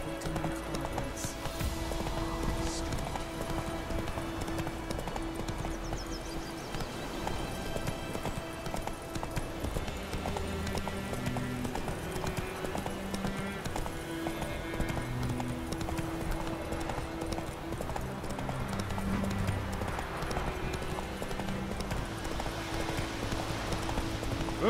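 In The Witcher 3, the horse Roach clip-clops at a steady rhythm through the whole stretch, fairly faint beneath a continuous bed of game music and ambience.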